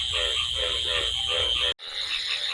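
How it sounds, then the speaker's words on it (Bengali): Two frogs croak in a rapid repeated rhythm from rainwater pooled beside a road at night after monsoon rain, over a constant high insect chorus, briefly cut by a sudden gap. "ওখানেই দুটো ব্যাঙ কোথায় বসে বসে ডাকছে"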